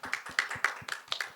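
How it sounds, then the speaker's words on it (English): A few people at a fashion show clap their hands, giving a short run of sharp, close claps in an uneven rhythm rather than a full crowd ovation. "a round of applause for all of you all"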